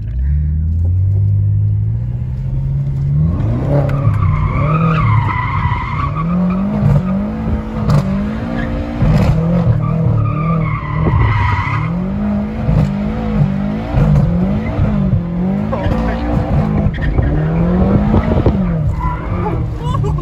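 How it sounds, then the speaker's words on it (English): Bagged 2018 BMW M6 with over 600 wheel horsepower doing donuts, engine revving and rising and falling in pitch while tires skid and squeal, loud and close throughout. "Take 2 for the donuts."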